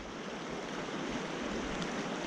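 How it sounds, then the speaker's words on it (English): Fast-flowing water of the Taylor River near Gunnison, Colorado, rushing in a steady, dense broadband roar that stays close and even throughout, with no voices. "Fast water."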